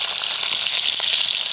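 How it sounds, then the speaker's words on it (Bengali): Potatoes fry in hot oil, giving a steady, dense sizzling hiss with faint crackles throughout a brief moment. "এখন আলু ভাজছি"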